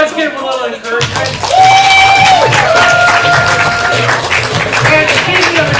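A live comedy-improv audience breaks into loud sustained applause with cheering and whoops, close and dense, beginning after a brief quieter moment and continuing to the end.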